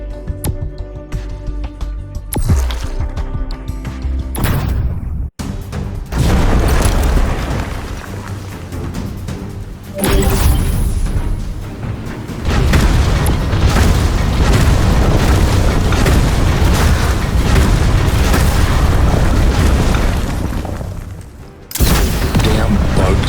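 Nuclear grenades from a mech detonate in the Project Entropy video game, loud booming blasts and sustained roaring rumble filling the clip, with brief quiet gaps between heavy bursts.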